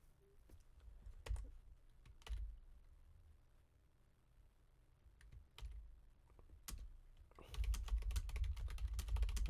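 Someone types on a computer keyboard in a quiet room, scattered clusters of soft key clicks that become denser and louder near the end.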